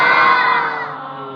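A large crowd at a religious gathering shouts God's name together, a loud, sustained roar of many voices that slowly fades.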